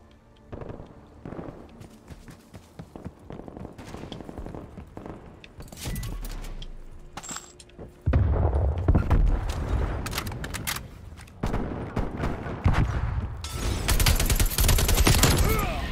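Rapid bursts of gunfire in Call of Duty Black Ops Cold War, with scattered shots early and then dense, loud volleys of automatic fire in the second half.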